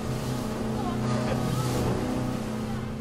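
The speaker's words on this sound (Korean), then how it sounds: "갑자기 보트 뒷바퀴가 파도와 부딪히면서 바닷물이 갑판을 덮칩니다" A homemade amphibious boat's engine drones steadily, with rushing water and wind noise washing over it as the hull pushes through waves and seawater splashes over the deck.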